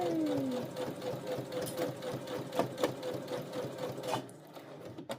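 Steady, close stitching whir of a Brother CS7000X sewing machine working on a bucket hat, opening with a falling motor tone and ending in a few clicks as it slows and stops.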